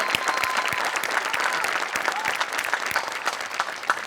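A studio audience at a comedy show claps in a sustained round of applause, dense and lively throughout, with faint voices mixed in.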